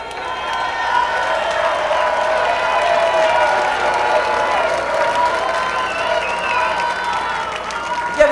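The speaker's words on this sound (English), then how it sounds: "Give yourself a round of applause for being such a good audience." Audience clapping and cheering at the close of a 1990 comedy show, a sustained crowd roar of applause that swells and holds, with whoops and voices mixed in and a speaker's voice faintly over it.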